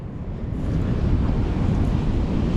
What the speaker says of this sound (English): These waves really kicking everything up.